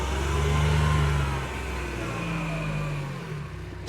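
A 2009 Kubota RTV1140 CPX diesel UTV drives in 4-wheel drive, its engine loud and close. The low drone rises at first, then eases into a steadier rumble.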